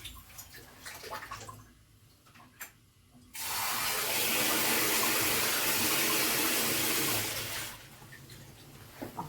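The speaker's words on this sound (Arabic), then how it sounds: "دي كوبايه ميه" Water poured steadily from a cup into a pot for sugar syrup in a home kitchen, a continuous rushing splash that starts a few seconds in and stops near the end.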